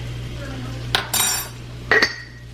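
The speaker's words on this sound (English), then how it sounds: "I'm gonna just put in a few spoonfuls, just sprinkle over brown sugar" A spoon clinks against a bowl and pan three times while brown sugar is scooped and sprinkled over cooking food, sharp, close metallic taps with quiet gaps between.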